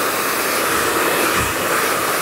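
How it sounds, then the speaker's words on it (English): Hair dryer running steadily at close range while blow-drying mid-length hair straight over a brush in a hairdressing lesson; a continuous loud broadband whoosh with no pauses and no talking. "the power of the dryer is just pushing the hair onto the brush"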